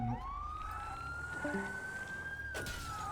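A police car siren in a video game sweeps up into a long, loud, steady wail and then cuts off abruptly, with a brief electronic blip partway through.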